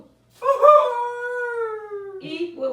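A person's voice imitates a dog's howl with one long, wavering 'ooh' that slides slowly downward for nearly two seconds, fairly close and clear, followed by a brief vocal sound.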